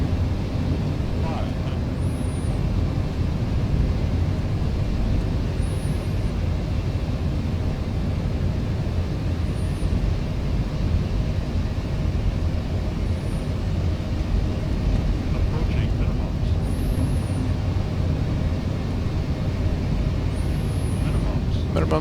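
Boeing 787-10 airliner on final approach in a flight simulator, a steady broad engine and airflow rumble holding level throughout, with faint cockpit chimes recurring above it and voices speaking over the drone.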